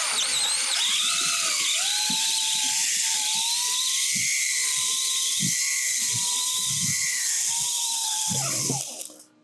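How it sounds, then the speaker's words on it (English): A power drill with a number 20 bit drills out a steel rivet on the quarter window track of a 1971-1976 Plymouth Dart or Duster. The loud, whining motor runs steadily for about eight seconds, then spins down. "We're going to go ahead with the number 20 drill bit."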